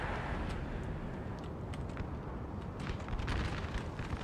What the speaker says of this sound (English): they've got artillery at the back shooting us